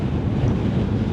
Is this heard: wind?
yes